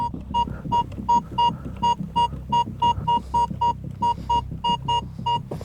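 A metal detector sweeping over garden ground gives a steady series of short beeping tones, about three per second, loud and regular over soft background rustle.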